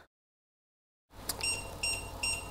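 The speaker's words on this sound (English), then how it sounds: "the Anova Precision Cooker is beeping at me, and it'll keep on doing that until you turn it off" An Anova Precision Cooker sous vide circulator's timer chirps after a brief silence, sounding a few quick, high electronic beeps in repeating groups, close and clear with a low hum underneath.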